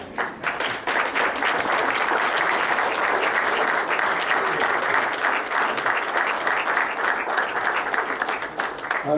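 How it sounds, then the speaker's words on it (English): A seated-then-standing audience at a lecture event gives a final round of applause and standing ovation: loud, sustained, dense clapping filling the whole stretch, easing slightly toward the end. "request all of you to carry the last round of applause and maybe with a standing ovation to Bade Bhai and Chote Bhai"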